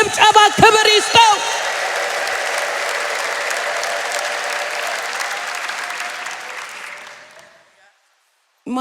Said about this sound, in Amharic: ይገባዋል የሚል እልልታ፣ ጭብጨባ፣ ክብር ይስጠው